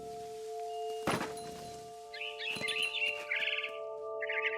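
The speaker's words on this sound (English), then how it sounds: "Then I heard chirping outside my window." Inside the video game What Remains of Edith Finch, a couple of dull thumps come first, then a barn swallow chirps in quick, bright bursts that repeat near and clear against a quiet background.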